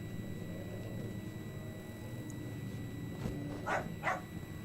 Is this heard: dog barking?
yes